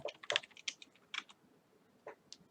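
Code is typed on a computer keyboard as part of a climate-control system project, coming as close, quiet bursts of clicky keystrokes with short pauses between them and no voices.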